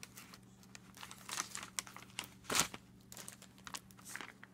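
An MRE beef and beans meal pouch is pulled from its bag with close, quiet plastic crinkling and rustling in irregular bursts, one sharper crackle in the middle and no talking.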